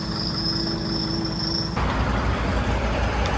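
A nearby truck rumbles at a steady low idle with a constant hiss, and the engine tone shifts partway through as it maneuvers close by.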